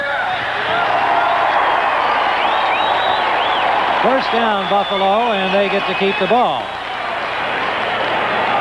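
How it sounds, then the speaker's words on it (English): Stadium crowd at a 1979 Bears v Bills NFL game in Buffalo, a steady roar rising under continuous play-by-play commentary, with a whistle-like tone sliding through the middle. "The crowd here coming alive, close to capacity at a rich stadium today"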